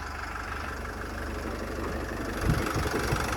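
A 2014 Renault Trafic van's 2.0-litre diesel engine idles with a steady, low, even rumble throughout, with a slight rise and a few heavier knocks near the end; no talking.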